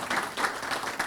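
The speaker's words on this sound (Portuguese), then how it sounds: "palmas para o Júlio" A short burst of audience applause at an electricity-sector panel, brisk, dense clapping from a room full of people with no voices over it.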